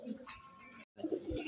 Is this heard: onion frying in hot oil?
no